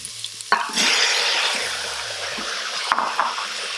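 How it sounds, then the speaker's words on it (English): Onions hitting hot oil with spices in an Instant Pot give a sudden loud hiss that settles into steady sizzling, with a spoon stirring and clinking against the pot close by. "So I threw the onions now, and then we'll throw in the tomatoes."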